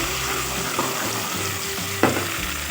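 Garlic ginger paste sizzling in hot oil in a pot for a meat curry, a steady broadband fry with a couple of sharp stirring scrapes, close and alone.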